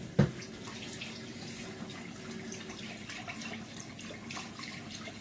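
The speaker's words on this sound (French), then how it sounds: "Attendez, je rajoute l'eau." Water runs steadily from a tap into a kitchen container, a continuous close hiss that follows a sharp knock at the start.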